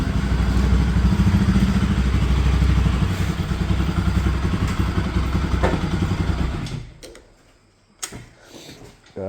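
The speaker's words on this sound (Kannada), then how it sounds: "ಗಾಡಿನ ಆಫ್ ಮಾಡಿ ಚಾರ್ಲಿ" A motorcycle engine runs loud and steady at close range, then cuts out near the end, leaving a few clattering thumps.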